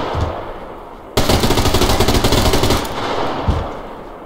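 A gun fires a loud, rapid automatic burst lasting about two seconds in the video game Survarium, preceded and followed by quieter handling noise and a single thump near the end.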